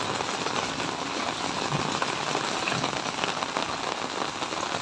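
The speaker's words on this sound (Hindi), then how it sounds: "बारिश हो ही रही है, नीचे भी पानी जा ही रहा" Steady rain pours down continuously, a dense, even hiss of drops striking surfaces nearby, with no voices or other sounds breaking through.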